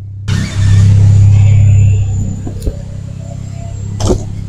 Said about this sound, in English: So marilah kita dengar bunyi dia. Itu turbo bunyi kuat.